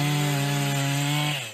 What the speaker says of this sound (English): as soon as I get out, if she'll let me, I get a chainsaw.